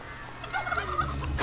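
A chicken in a video game squawks and gobbles as it is struck, a short, loud, close burst of fowl cries ending in a sharp hit.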